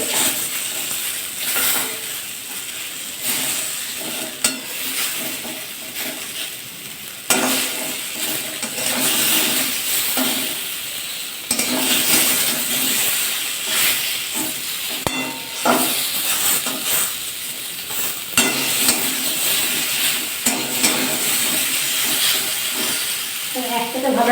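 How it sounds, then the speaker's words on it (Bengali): Eggplant slices frying in a pan for a light rohu fish curry, producing a loud, continuous hiss and sizzle with occasional clinks and scrapes, under intermittent talking. "বেগুন ভাজা হয়ে গেছে"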